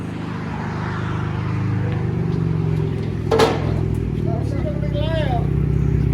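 A 2014 Chevy Camaro V6 with true dual exhaust and straight pipes drones loudly and steadily at close range, its low rumble holding throughout with a brief rise near the middle, while people talk over it.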